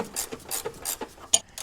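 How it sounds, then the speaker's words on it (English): Car jack being raised under a V8 Volkswagen Touareg during an engine swap, giving a run of quiet, evenly spaced ratcheting clicks with one sharper click near the end. "So I'm gonna see if I can jack this thing up all the way."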